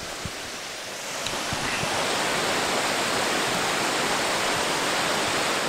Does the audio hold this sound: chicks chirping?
no